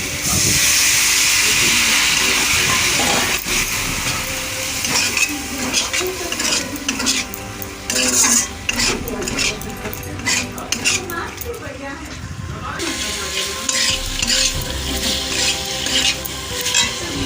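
Soya chilli frying in a pan hisses and sizzles loudly as water is added, with a spoon scraping and clinking against the pan throughout and occasional voice in the background.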